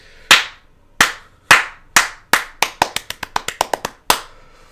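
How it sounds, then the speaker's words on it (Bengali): A single person claps by hand, starting with a few slow, sharp, close claps, then speeding up into a quicker run before one last clap. Each clap rings out alone, with no talk. "বাট আস্তে আস্তে একটু তালি দিই"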